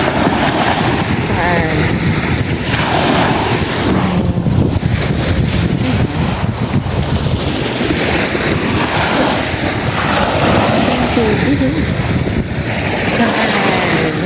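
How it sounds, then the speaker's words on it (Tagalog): Ocean waves surge and crash repeatedly, loud and close, on a cloudy day at Santa Fe, Bantayan Island, mixed with gusting wind buffeting the microphone throughout. "Sarap pakinggan ng hampas ang alon ng tubig."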